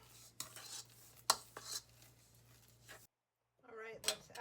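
Carrot and walnut bread batter made with applesauce and no oil or dairy, stirred in a bowl: soft scraping strokes and a few sharper utensil knocks against the bowl, close by, then a short silence before quiet talking resumes.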